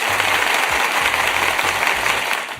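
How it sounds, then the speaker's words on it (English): Continuous close clapping from a talk-show host, a steady, bright patter of applause with no pauses and no speech, fairly loud throughout. "I have to applaud her 2 more times"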